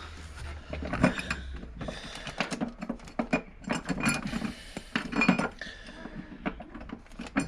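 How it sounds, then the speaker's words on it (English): Ratchet wrench tightening a 12mm bolt on a battery clamp of a 2003 Volvo XC90, giving a run of quick metallic clicks and ticks in uneven bursts, close and fairly loud, with no talking. "So first thing, put the clamp on with that 12mm"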